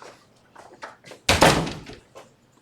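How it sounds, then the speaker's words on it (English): An indoor door is swung shut with one loud, sharp thunk near the microphone, preceded and followed by faint murmuring voices. "I'm going to shut this door."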